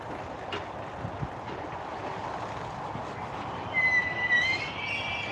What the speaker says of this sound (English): Plenty of shunting action still to come with this one.